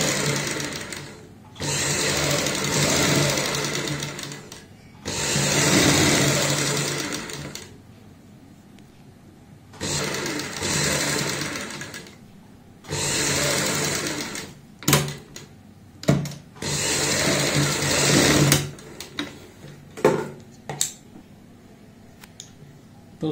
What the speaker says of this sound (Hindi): हमने दूसरा जो निशान है उसके बाहर की साइड सिलाई लगानी है।